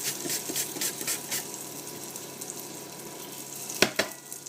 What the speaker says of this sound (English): we're going to slice it thinly with a mandolin